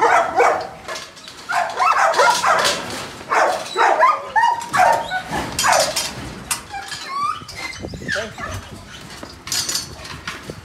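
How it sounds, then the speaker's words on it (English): A young male working dog at a kennel yard barks and yips in quick bursts, close and loud, with whimpering between barks and someone talking partly over them. "Really a good dog"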